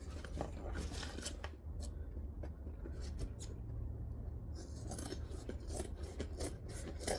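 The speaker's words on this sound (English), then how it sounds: "Sharp scissors help too." Sharp scissors slice through printed waterproof canvas in a series of crisp, rasping snips with short pauses between cuts, close and clear with no voices.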